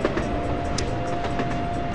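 A coal-carrying train in the video game Tycoon Empire rolls steadily with a continuous rumble and faint wheel clicks, loud and close, without talk.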